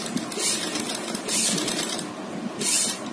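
A sewing machine stitches right alongside buckram, attaching piping for a neckline design. It runs in three quick, steady whirring bursts, close and alone.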